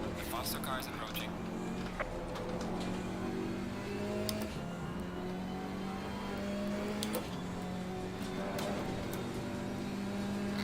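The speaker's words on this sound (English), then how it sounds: "Faster car is approaching." Race car engines in Assetto Corsa Competizione at Paul Ricard, heard from a KTM X-Bow GT4 in a VR race, with a steady droning engine and a faster car closing in and passing, while a voice talks over it.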